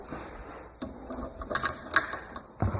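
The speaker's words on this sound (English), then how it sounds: "So I am going to be sharpening this chain" Grinding contact of a Stihl MS 230 chainsaw chain against a sharpener, a series of short scraping bursts against a steady background hum, irregularly spaced and fairly close.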